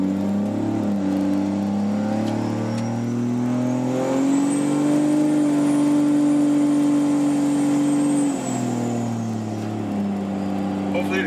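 A steady, low engine drone fills the cab as a Cummins diesel pickup truck with an adjustable track bar drives along, the tone rising and holding, then easing off near the end.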